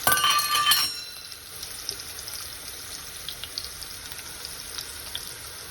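Onions hit hot oil in a pan for pasta, giving a brief loud splash of sizzling and clinks, then a quieter steady fry crackling on its own.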